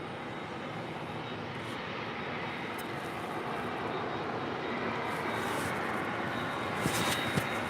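Airliner taking off from runway 25 right at LAX, a broad steady engine roar heard from a distance that slowly grows louder toward the end, without talk.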